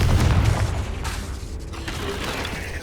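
A Confringo fire-blast spell explodes in the Hogwarts Legacy video game, a loud low boom that rolls into mechanical clanking and rattling debris, a steady heavy rumble lasting several seconds with no talk.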